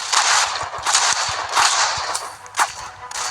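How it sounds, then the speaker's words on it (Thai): Rapid bursts of automatic gunfire from the Roblox game Dead Rails crackle in quick, uneven volleys, loud and close, with a few sharper single shots standing out. "มันยิงเขาก่อนเลยวะ"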